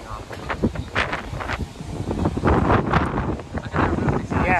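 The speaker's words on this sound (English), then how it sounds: "it's getting windy, guys" Gusty wind buffets the microphone in rough, roaring surges, with people talking faintly beneath it.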